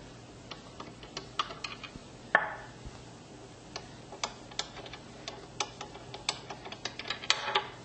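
Small ticking and ratcheting clicks come from the bottom screws being undone on a C5 telescope mount, scattered irregularly and close by with a sharper knock partway through. No one speaks.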